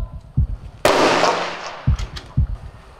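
A single loud live-round blast during military training, sharp and close, with a fading tail. Several dull thumps come before and after it.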